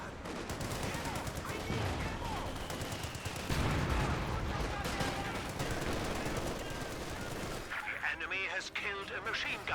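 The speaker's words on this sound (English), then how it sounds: "MG42 still trying to fire away." Bursts of MG42 machine-gun fire rattle through a dense Company of Heroes battle, mixed with other gunfire and artillery blasts in a continuous loud din.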